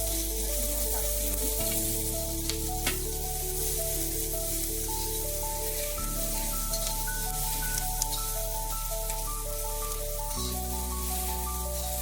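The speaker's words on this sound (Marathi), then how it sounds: "लसूण पण आपल्याला चांगल्या तेलात भाजून घ्यायचा आहे." Garlic and green chilies frying in oil for a Maharashtrian green chili thecha paste, a steady, even sizzle running throughout beneath continuous background music.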